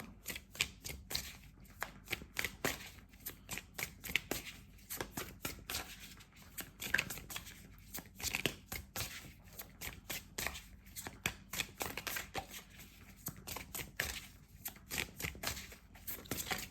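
Tarot cards are shuffled close up for a reading, making a long run of rapid riffling and soft slapping bursts in an uneven rhythm, quiet overall, with no talking.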